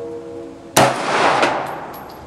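A single sharp, loud pistol shot from a TriStar C100 fired at a target, with a short ringing decay and a faint echo afterward following a low steady hum.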